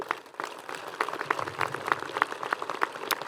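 Graduation audience at Webster Thomas applauding two student speakers, a brief, moderate burst of scattered hand claps with a fairly even, crackling texture from a sizable crowd.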